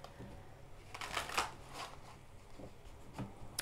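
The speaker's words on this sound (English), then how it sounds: "So one more shuffle here." Tarot cards shuffled by hand in a quiet room: a few soft riffling and flicking bursts, close and faint, with no talking.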